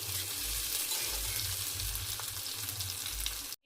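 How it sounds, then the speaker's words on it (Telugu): Curry deep frying in oil gives off a steady, loud, dense sizzle close by that runs without a break until it cuts off abruptly at the end. "ఇంకొంచెం ఆయిల్ వేసి ఫ్రై లాగా చేస్తాను."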